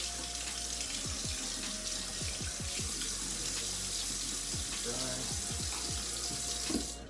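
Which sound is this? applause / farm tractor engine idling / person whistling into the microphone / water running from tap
water running from tap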